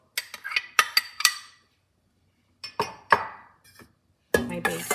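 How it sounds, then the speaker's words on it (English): Clams dropping into a soup pot for creamy clam chowder: bright clinks and clatters, first in a quick run of hits, then a few scattered ones, then a final rattling cluster, close and crisp with silence between. "I'm gonna add my clam juice to the pot, my clams,"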